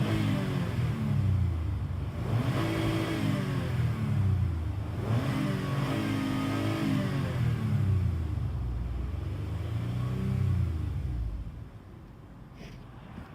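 A Toyota 2GR-FE V6 revs repeatedly, recorded close from the engine bay. Several rising and falling throttle blips ride over a loud steady rumble, then the engine settles lower near the end.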